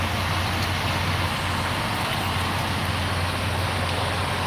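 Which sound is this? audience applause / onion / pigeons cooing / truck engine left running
truck engine left running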